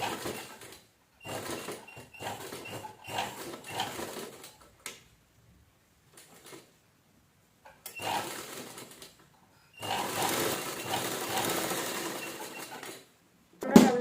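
A sewing machine stitches a small cloth pouch for headphones. Close, loud whirring bursts of stitching come in several runs separated by pauses, with one long steady run near the end.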